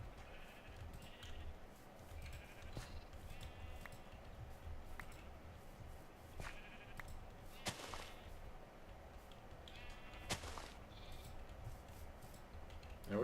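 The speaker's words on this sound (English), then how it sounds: "I've collected a few sheep." Sheep bleating in modded Minecraft (FoolCraft 3), several short bleats spaced apart over a steady low background hum, with a few sharp clicks in between.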